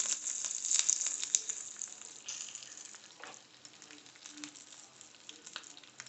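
A tempering of dried red chillies and curry leaves sizzles and crackles in oil in a pan, a busy hiss with scattered pops, louder at first then settling to a softer steady fry.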